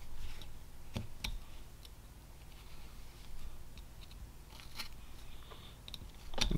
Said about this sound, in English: Then I go in and I just basically removing a little chip to split the guard inside this cut